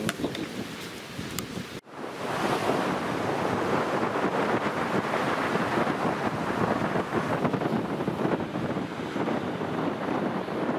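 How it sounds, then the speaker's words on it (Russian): Steady, loud rushing wind roaring against the microphone, constant and broadband, with no voices. "второй день задувает ветер вечером вроде успокоился"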